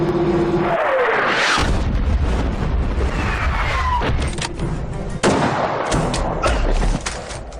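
Artillery and gunfire from a war film battle scene, a dense barrage of loud blasts and rattling shots layered over one another throughout, with heavy low rumble and sharp cracks overlapping continuously.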